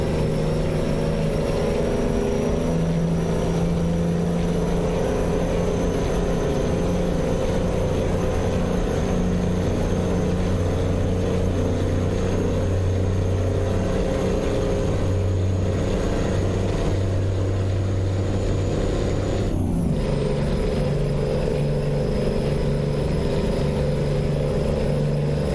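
A truck engine in American Truck Simulator drones loudly and steadily, holding its pitch through a long rev before dropping abruptly near the end.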